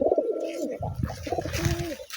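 Pigeons in a loft give a close, clear coo, a low, rolling throaty call repeated in short phrases with a faint higher chirp in the background.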